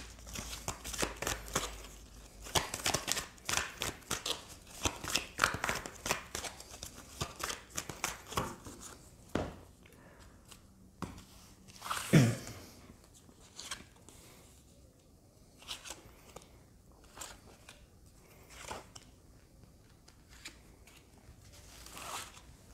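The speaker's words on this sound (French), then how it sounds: "on va tirer d'autres cartes pour voir un petit peu" Tarot cards being shuffled and drawn at close range: long runs of rapid papery riffling and flicking, then scattered single card slides and taps, fairly quiet overall.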